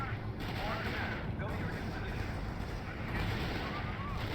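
Faint, dense battlefield gunfire in the real-time strategy game R.U.S.E., with anti-tank guns firing among a continuous rumble of shots and explosions.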